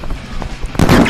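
A firework goes off at night, a sudden loud crackling burst that erupts near the end after a short stretch of low rumbling.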